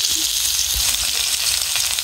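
Chopped onion, garlic and ginger fry in hot oil with a loud, dense, continuous sizzle, a few stirring knocks showing up briefly underneath.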